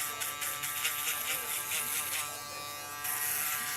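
Close, steady buzzing of an electric shaver running through hair during a barbershop fade, a continuous motor drone that shifts slightly in tone as it cuts, alone without talk.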